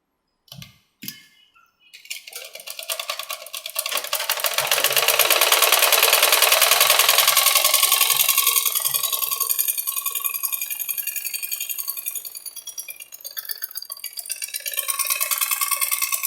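A sewing machine stitches a strip onto a sleeve and runs in a steady, rapid mechanical whir after a few initial clicks, swelling slightly and then holding an even rhythm up close.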